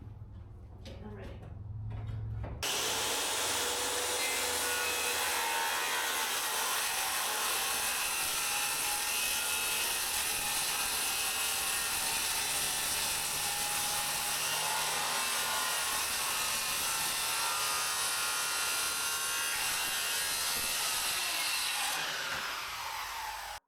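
A saw cuts a board down to length in a garage workspace, a loud steady rasping that runs continuously for about twenty seconds after a brief lead-in of voices, then stops.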